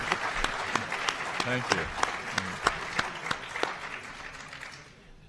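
Audience applause after a plenary talk on campaign finance reform, distinct claps rising into a sustained patter that fades out at the end; a voice briefly says thanks at the start.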